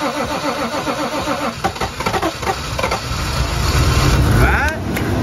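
A Toyota Mark II with a turbocharged 1G-FE engine cranks with rhythmic churning and then catches, rising into a steadier running rumble, while people talk nearby.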